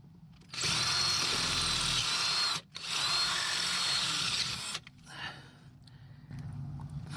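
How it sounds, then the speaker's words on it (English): A power drill drills and taps a hole for an EGR probe on a 2003 Dodge Ram 5.9 Cummins engine: two loud, close, high-pitched bursts of about two seconds each, then a quieter rough grinding. "So I'm drilling and tapping this for an EGR probe."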